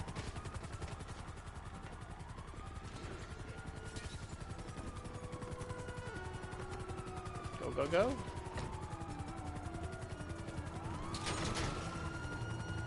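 Helicopter and gunfire in the game GTA, a chopping rotor drone and wailing police sirens under scattered gunshots and a louder burst of shots, while a voice shouts briefly over the chaos.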